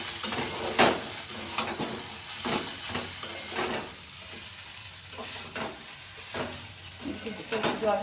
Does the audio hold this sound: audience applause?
no